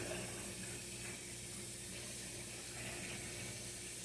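Cold water runs from a kitchen sink tap while potatoes are washed, a soft continuous hiss with faint low hum beneath it and no talking.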